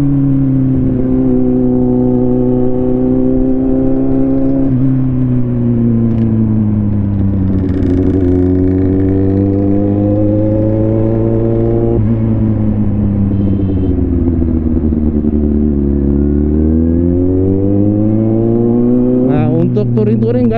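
A Jet 800 touring motorcycle engine drones loudly while riding, its pitch rising and falling smoothly as the bike accelerates and eases off, with steady rumble throughout and a brief sharp burst near the end.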